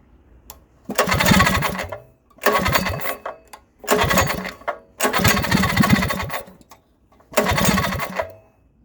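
A Predator 212 small gasoline engine with its governor removed runs in five loud bursts of rough, sputtering revving, each lasting about one to two seconds, separated by brief quiet gaps as it cuts out and restarts.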